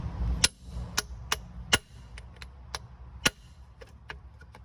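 A hammer taps a rubber steering column bushing into place on an L4508, L4708 or L5018 machine. About ten sharp, close metallic knocks land at an uneven pace, some heavier than others, with no talking.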